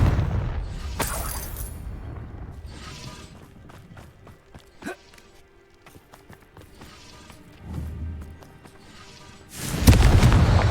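Confringo explosion spell cast in Hogwarts Legacy, with several sharp bursts and booms scattered through a quieter stretch of game ambience, the loudest blasts near the end.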